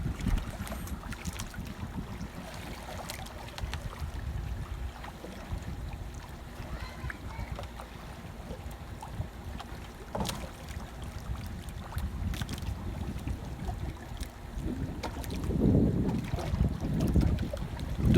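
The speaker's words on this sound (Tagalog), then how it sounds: "Pero malakas yung hangin." Strong wind buffets the microphone at the shore near high tide in a continuous rumbling roar, with gusts swelling louder toward the end and strong waves underneath.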